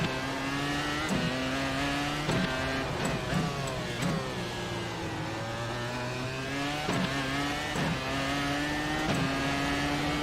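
A race car engine in the iRacing sim driven from a motion cockpit, revving steadily and loudly through repeated gear changes, pitch climbing and dropping for the whole stretch.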